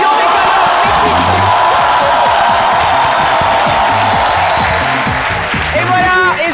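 Loud studio audience applause on a French show, with dense clapping mixed with crowd cheering and whoops, sustained and close throughout, easing slightly near the end.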